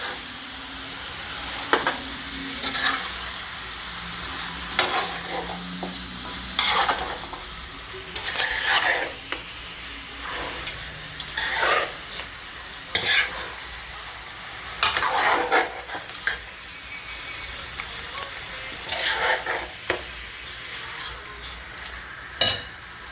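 Duck curry meat with masala, jeera, garlic and onion stirred in a kahari, scraping strokes recurring every second or two over a steady low sizzle, close and moderately loud.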